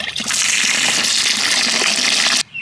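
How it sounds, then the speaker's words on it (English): Water from a tap gushing steadily into a container of soaking chicken feed, a loud continuous hissing pour that stops abruptly near the end, with no talking. "Then we run water in it and we soak it overnight."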